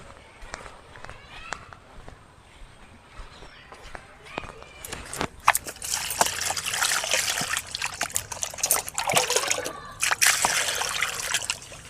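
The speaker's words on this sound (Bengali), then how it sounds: "বন্ধুরা আমার শোল মাছটা কাটা হয়ে গেছে এবার ভালো করে ধুয়ে নেবো" Water trickles and splashes as cut snakehead fish is washed by hand, the running stream growing louder and busier in the second half, with a voice heard faintly early on.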